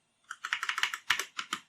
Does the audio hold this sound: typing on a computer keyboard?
yes